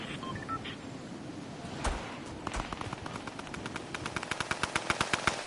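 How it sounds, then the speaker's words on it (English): Gunfire in the battle royale game Fortnite, with scattered shots followed by a fast, evenly spaced burst of automatic fire that grows louder toward the end, over a low background rumble. "Someone shooting over there."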